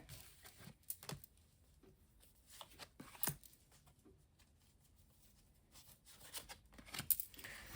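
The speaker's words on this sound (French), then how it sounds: "je vais rajouter des cartes là-dessus" Cards are set down and flipped over on a table during a card reading. Soft, faint slaps and papery flicks come in scattered clusters over a very quiet background, with no speech.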